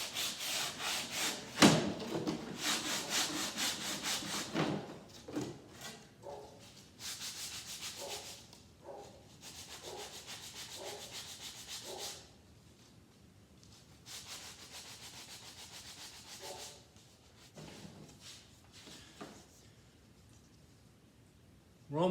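Hand sanding of wood strips on a cedar-strip canoe build, with repeated rasping back-and-forth strokes in rhythmic bursts separated by brief pauses, close and moderately loud.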